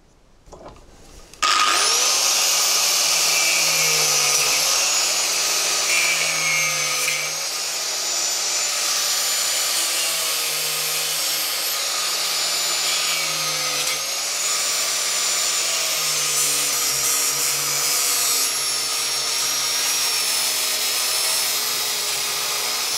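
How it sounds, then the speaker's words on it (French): Angle grinder cutting into a bicycle pedal to free its axle outdoors, a harsh high whine that starts abruptly and holds loud and steady for a long stretch, with pitch dipping slightly as it bites. "je vais aller faire ça dehors avec la meuleuse d'angle"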